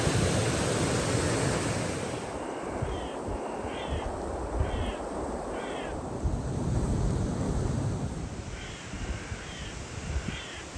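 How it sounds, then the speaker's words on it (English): A clear mountain river in the Pyrenees rushes in a steady, full broadband roar, while a bird calls in short repeated bursts over the water noise. "What a river."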